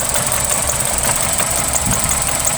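A 2018 Hyundai Accent engine idles roughly after a head gasket replacement, a loud, steady, close mechanical drone with a faint uneven knock running through it, no voices.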